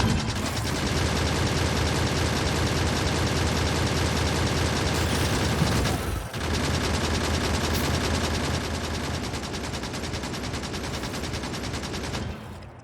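Gun turrets blaze away in Factorio, a continuous dense rattle of automatic fire that runs loud and steady for the whole stretch, broken only by one brief dip midway before resuming.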